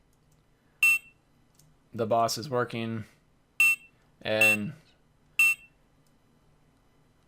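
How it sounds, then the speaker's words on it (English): Short electronic game beeps sound as a third-person character collects spheres, three sharp single tones spaced a few seconds apart, alternating with someone talking between them. "collecting the spheres with a very annoying beep sound"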